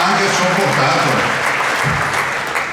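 An Italian political rally crowd applauds the Lega campaign team for Luca Zaia, a dense, loud, sustained clapping that carries on evenly, with voices mixed in beneath.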